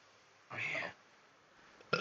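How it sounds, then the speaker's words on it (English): A single loud burp lasting about half a second against quiet background, with a brief sound starting again at the very end. "I'm gonna burp, and I don't know when it's gonna come out"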